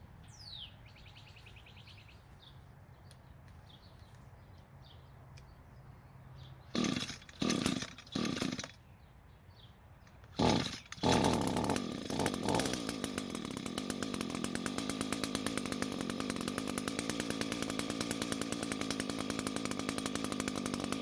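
An Echo chainsaw with a newly changed primer bulb is pulled over a few times with short bursts, then catches and runs as a steady buzzing idle, loud and close, with birds chirping faintly early on.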